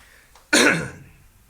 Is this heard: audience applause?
no